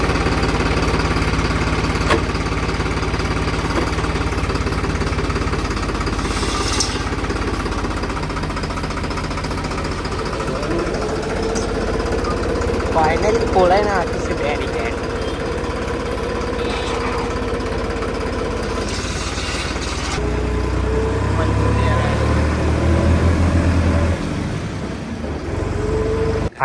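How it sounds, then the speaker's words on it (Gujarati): A tractor engine runs loud and continuous as it drives uphill toward a temple, its steady diesel chug throbbing near throughout and rising in effort near the end, with brief speech over it. "ઉપર લઈ જવાનું છે ટ્રેક્ટર આપણે."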